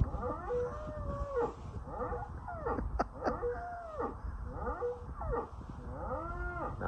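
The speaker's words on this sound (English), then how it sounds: "There are some other cows up in that field there somewhere" Cows low repeatedly in a field beside a stream, several drawn-out moos overlapping and answering one another at moderate distance, with no voices.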